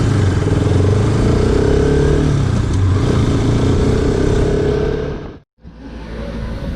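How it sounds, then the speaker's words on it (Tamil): A Bajaj Pulsar RS200 BS6 motorcycle being ridden gives a steady, loud engine drone mixed with road and wind rush, then briefly drops off near the end, as on a gear change, before picking up again. "இப்போ நம்ம வண்டியை ஓட்டி பார்த்துட்டு வருவோம்"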